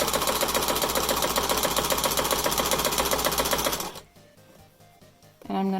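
Sewing machine stitching a fabric mask, a loud rapid mechanical chatter running steadily for about four seconds before stopping, followed by quiet handling and a brief louder burst at the end.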